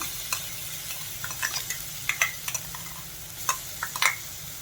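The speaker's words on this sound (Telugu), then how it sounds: "ఈ పేస్ట్ వేగేటప్పుడే దీంట్లో జస్ట్ పచ్చి వాసన పోయేదాకా వేగించుకోవాలి" A green coriander paste fries with onions in a pan for sabudana khichdi, a steady sizzle broken by scattered spatula scrapes and stirring clicks up close.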